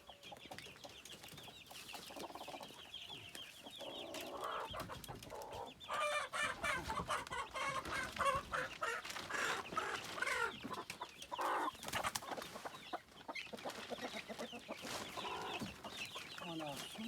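Hens cluck and chatter continuously close by, with busy farmyard clatter and occasional louder squawks over a steady noisy background.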